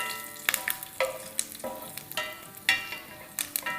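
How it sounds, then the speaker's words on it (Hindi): Carom seeds and crushed chillies sauté in hot oil in a pan, sharp spitting crackles bursting in quick irregular pops over a low sizzle, close and fairly loud, no voices. "अब इसमें डालेंगे आधी टीस्पून अजवाइन और 1 टीस्पून कुटी हुई मिर्चें। इसको थोड़ा सा सौटे करेंगे।"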